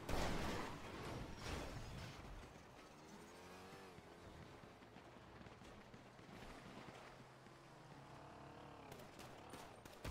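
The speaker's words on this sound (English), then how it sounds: "They're shooting each other, boys." A distant, muffled exchange of gunfire during a roleplay shootout in GTA, a louder crackle at the start then scattered faint shots under a vehicle-like rumble, no voices heard.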